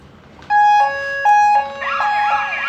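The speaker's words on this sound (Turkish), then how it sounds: "telefonumuzla birlikte alarmımız aynı anda aktifleşecek." A loud electronic smart home alarm siren sounds up close, stepping between tones in a wailing pattern, with no voices.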